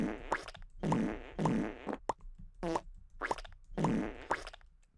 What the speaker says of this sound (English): Aha, but the farting sound is only for you.